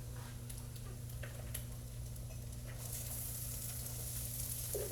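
Shredded cabbage sizzles steadily in a hot wok during a Thai stir-fry, a constant frying hiss with light crackles and occasional stirring scrapes.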